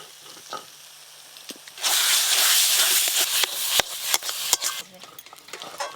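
Spice paste hits a hot pan of cooking pumpkin and bursts into a loud, sudden sizzle that holds steady, then breaks into sputtering crackles and pops as it fries, close by with faint talk beforehand.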